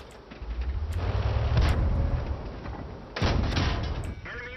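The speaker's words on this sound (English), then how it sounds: "where is he shooting me? Ow! Great, artillery." Artillery shells strike a tank in the World of Tanks video game, heavy booming impacts with a long rumbling roar, one near 1.5 seconds and another sharp hit near 3.2 seconds, loud and close.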